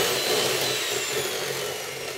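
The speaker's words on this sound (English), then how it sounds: "Whisk it for about 2 minutes." Chocolate muffin batter made from a Wright's Baking cake mix is whisked steadily with an electric whisk, giving a constant, fairly loud whirring buzz with no talk over it.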